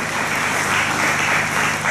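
A church congregation breaks into continuous applause, a dense, loud wash of clapping from many hands that fills the whole moment without a break.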